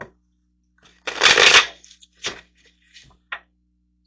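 A deck of tarot cards riffled in one loud burst, followed by a few softer, separate flicks and taps as single cards are drawn and laid down, close and with no talking.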